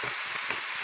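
Meat sizzling and frying in a pan for stuffed Christmas chicken, a dense crackling hiss that is close and steady throughout, with no voices.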